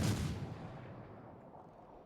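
A single heavy naval gun salvo booms in World of Warships, a loud close blast at the start that rolls off into a long fading rumble.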